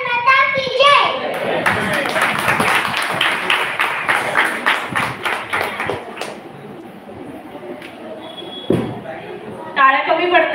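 An audience claps after a children's Independence Day patriotic performance at a school event. The clapping is scattered but steady for several seconds, mixed with children's chatter, and voices talk before and after it.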